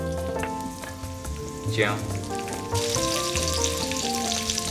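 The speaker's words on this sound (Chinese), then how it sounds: "在锅里炒香" Sichuan peppercorns, chilies and ginger stir-fried in hot oil in a wok for spicy duck tongues, making a steady, close sizzle that grows louder partway through, with a brief spoken word.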